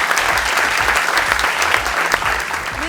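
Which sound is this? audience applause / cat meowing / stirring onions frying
audience applause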